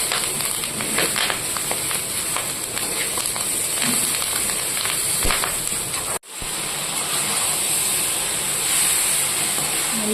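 Three chopped tomatoes sauté in a pan for pirandai thuvaiyal, giving a steady, close hissing sizzle that runs throughout, broken by one brief dropout midway.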